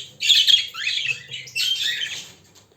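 Young bird chick squawking in short, harsh, raspy calls, two loud bursts close by with a brief pause between, over quiet background.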